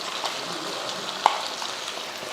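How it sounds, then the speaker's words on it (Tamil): Ground masala is stirred into chicken varuval frying in a pan, giving a steady, even sizzle with one sharp clink of the spoon partway through. "இப்போ கலந்துருவோம் ஒரு ரெண்டு நிமிஷத்துக்கு இந்த மாதிரி நல்லா கலந்து விட்டுருவோம்"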